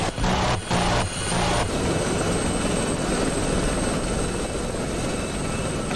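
A helicopter chopper in the combat flight game DCS thunders steadily in low-altitude flight, a loud continuous rotor and engine roar close by with brief dips in the first seconds, no talk.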